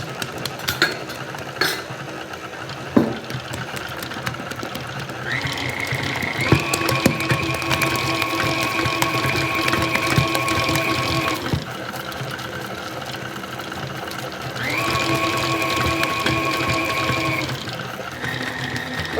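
A stand mixer kneads bread dough for kaak, its motor whining in sustained stretches that start and stop, with clinks and rattles of the bowl and a quieter background between runs.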